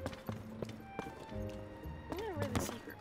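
Horse hooves clip-clopping in the video game Tears of the Kingdom, a quick run of hoof beats with game music and voices over it.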